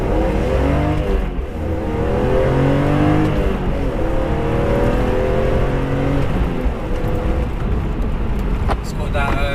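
BMW E46 M3 with stock exhaust, a light raspy engine note droning steadily from inside the cabin at close range, with speech over it throughout.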